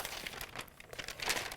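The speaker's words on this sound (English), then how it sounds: "gonna pull the rest of the tape backing off." Vinyl tape backing being peeled off during a craft project, a close, crinkly rustling and tearing in quick uneven bursts with no talking.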